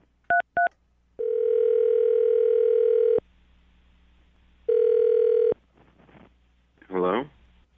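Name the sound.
telephone dial tone and phone number being dialed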